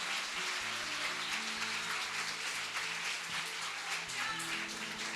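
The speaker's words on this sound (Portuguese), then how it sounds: "Será que você pode aplaudir o seu bem forte no seu lugar?" Church congregation clapping hard in their seats during a sermon, a soft continuous patter of many hands blended with low background hum, moderately distant and without talk.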